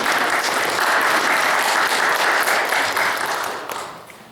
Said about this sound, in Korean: 그럼 박수 한번 해보겠습니다.